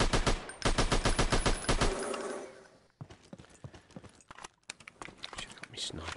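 Enemy bots firing at the player in the VR shooter Alvo on PSVR: a loud, rapid automatic burst for about two seconds, then scattered, sharper single shots and clatter with a low background rumble.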